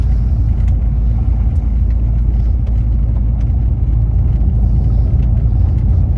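A car drives over roads in Big Bear, California, after the season's biggest snowstorm, with a loud, steady low engine and road rumble heard from inside the cabin.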